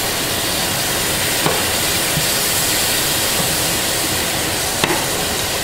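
Shrimp frying in a pan on medium-high heat, giving a steady, even sizzle that holds from start to finish, with a couple of faint clicks and no voices.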